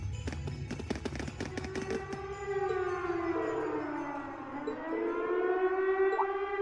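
A wailing bomb siren sounds in the video game Trails of Cold Steel, its pitch rising and falling in long sweeps after a burst of sharp crackling bangs, loud and close throughout.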